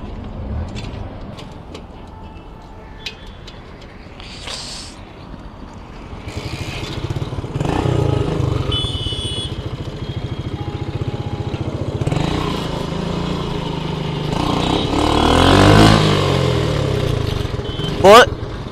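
A motorcycle engine runs with a low rumbling idle that rises and falls, while a person talks over it.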